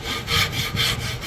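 A hand saw cuts the protruding wooden dowel ends off a dining room chair under repair, a close, loud, rhythmic back-and-forth rasp with strokes roughly every half second.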